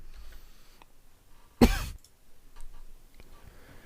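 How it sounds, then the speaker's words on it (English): A single sharp cough, close and loud, standing out against an otherwise quiet background. "no more coughing all the way through this"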